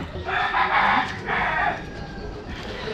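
A rooster crows in two long, loud drawn-out calls close by, the second slightly shorter, with farmyard background noise between and after.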